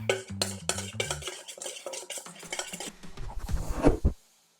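Frozen grapes are stirred with tajin seasoning in a bowl, giving a quick run of close clinks and scraping rattles that build up and then stop abruptly.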